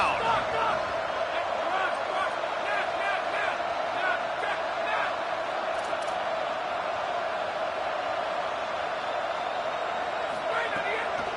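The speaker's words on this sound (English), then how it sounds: "The Red Raider crowd rising to the occasion to help its defense on 3rd down" Red Raider football fans cheer loudly in the stadium on a 3rd down, a sustained, even roar of crowd noise that holds steady for the whole stretch.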